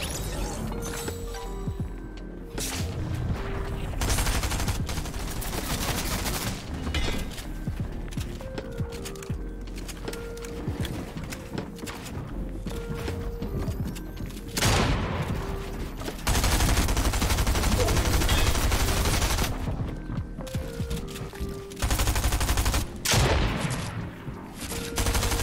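Rapid assault rifle and SMG bursts crackle through a busy video game battle, dense volleys and fusillades stacking up over a steady bed of game music and effects, loud and nearly continuous.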